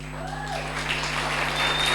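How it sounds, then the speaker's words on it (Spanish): At a youth camp gathering, an audience begins clapping for the kids, the applause swelling quickly over a steady low hum. "Un aplauso para los chicos."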